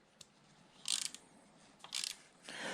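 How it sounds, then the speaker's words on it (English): Three short bursts of ratchet clicking come from a small wrench tightening the gear lever bolt on a BMW F 750GS motorcycle, each rapid run of clicks close and crisp against a quiet background, with a longer final run. "you have to tighten the bolt again."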